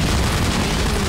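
A bazooka explosion in the video game Garry's Mod, heard as a sustained, dense roar of noise that fills the whole moment without a pause, loud and alone.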